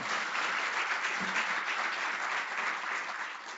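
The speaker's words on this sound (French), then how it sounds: "On peut l'applaudir." An audience at a conference on Quebec's organic markets gives a speaker steady, sustained applause, a dense wash of many hands clapping at moderate distance with no talk over it.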